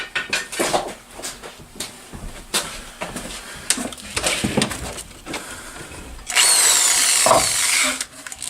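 A power drill whirs in short bursts against the lower end of a 1964 Evinrude Big Twin outboard motor, with metallic clanks and rattles of the tool and parts, ending in a longer steady high whine.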